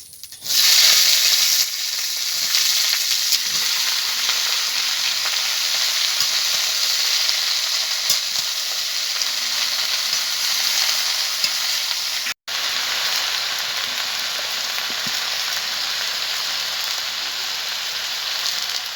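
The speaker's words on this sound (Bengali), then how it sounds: "তেল গরম হয়ে গেছে, এখন এই পুঁই শাক, আলু আর কাঁঠালের দানা একসঙ্গে" Malabar spinach, potato and jackfruit seeds hit hot mustard oil with a loud burst, then fry in a dense, even sizzle for a long stretch, with one abrupt momentary cut partway through.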